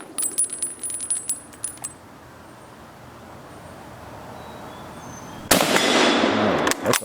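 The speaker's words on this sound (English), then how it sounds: "That's a hard hitting gun. 30-06." A 30-06 rifle fires a single loud, sharp shot outdoors, followed by a long ringing decay across open terrain after several seconds of faint ticks and quiet background.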